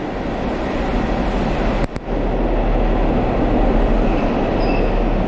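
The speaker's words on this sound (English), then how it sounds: "Midland Pullman, not Flying Scotsman, sorry." A Midland Pullman train passes through Preston station, a loud continuous rolling roar of wheels and engine close by with a brief sharp break partway through and no talking.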